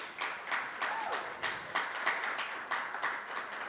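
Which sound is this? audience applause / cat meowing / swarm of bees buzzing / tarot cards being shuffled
audience applause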